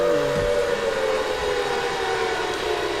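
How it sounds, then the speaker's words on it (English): Siren in a PSP video game running on an emulator on a Steam Deck, a steady droning wail with a couple of sustained tones held throughout, loud and continuous over a rumbling game background. "There's the siren that we all know and love."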